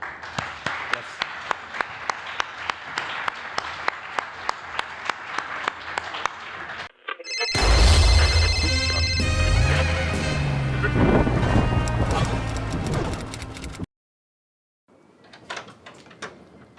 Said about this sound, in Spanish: despedir a Rodolfo con el aplauso que merece